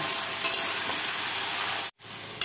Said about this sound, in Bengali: এখন এই যে কচুটা দিয়ে দেবো, এর মধ্যে দিয়ে দেবো লবণ হলুদ দিয়ে, এটা ভাজা ভাজা করব